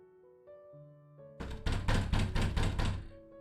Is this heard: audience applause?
no